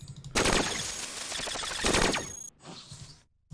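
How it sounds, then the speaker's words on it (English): Rapid machine gun fire in the video game Cogmind, two loud sustained bursts of rattling shots, the second trailing off, then a brief fainter burst before silence. "You can just spam bullets all over the place."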